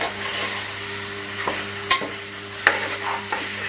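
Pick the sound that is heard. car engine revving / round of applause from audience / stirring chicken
stirring chicken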